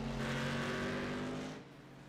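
BMW race car engine in a sim racing game at Homestead Miami, a steady sustained engine drone with tonal harmonics, fairly loud and close, easing off near the end with no talk.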